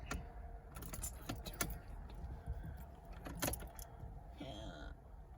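Ignition key turning and jangling in a Nissan 350Z with a manual gearbox, close metallic clicks and rattles over a steady low cabin rumble, with a brief higher whine near the end.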